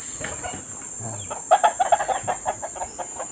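Several chickens cluck in short, choppy bursts close by while someone sweeps in a backyard, building into a busier flurry of clucks over a constant high-pitched background hiss.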